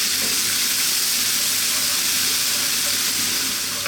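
Salt, pepper and dried oregano sizzle in a frying pan for a smoked salmon cream pasta, a loud, steady hiss of frying that holds evenly close-up.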